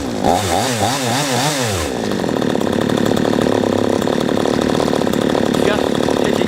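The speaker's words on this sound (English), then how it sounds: "Start it up and you'll find it'll tick over a few seconds." A P1PE P6220C chainsaw with a carburettor needing adjustment is pulled over with a few rising and falling cranking strokes, catches, and settles into a loud, steady, close-up idle.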